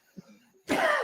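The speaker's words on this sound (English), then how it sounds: "That's the best bit so far, the coughing." A person coughs in a short burst near the end, loud and close, after a faint low throat sound.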